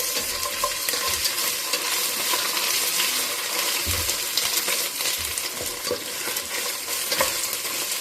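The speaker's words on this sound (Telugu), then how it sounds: "ఇప్పుడు నేను కాస్త అల్లం పేస్ట్ వేస్తాను." Ginger paste goes into a pan of frying colour rice with onions, green chillies and garam masala, a steady close sizzle broken by clinking stirring scrapes of a metal spoon.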